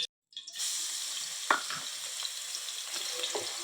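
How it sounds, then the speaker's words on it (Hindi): Ginger and garlic paste frying in hot oil in a home kitchen for bhindi gosht, a soft steady sizzle after a short silence, with a few faint clinks of stirring, no voices. "ये देखें ये अदरक और लहसुन का पेस्ट हम अच्छे से फ्राई करेंगे।"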